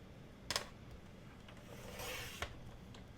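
A tiny sliver being trimmed off a paper piece for an accordion mini album, giving two short sharp cutting snaps and a soft rasping slide between them, quiet and close.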